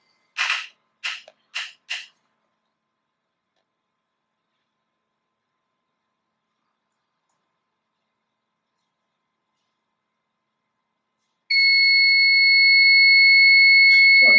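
An electronic brake system test rig gives four short sharp beeps, then after a long silence a steady loud tonal alarm sounds continuously to the end.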